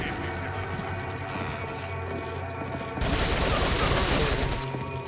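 Rapid pistol gunfire in Resident Evil 4, a dense stream of shots at a steady level that swells into a louder, busier burst partway through, with no one talking over it.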